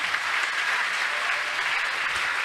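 A church talk-show audience applauds and cheers for Jesus, a dense, steady wash of clapping filling the room from start to end.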